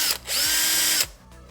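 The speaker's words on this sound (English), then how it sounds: "Anytime you're drilling, you should always drill a pilot hole." A power drill bores a pilot hole into a Honda ignition cylinder in one steady, close, loud whining burst of under a second, with no talking.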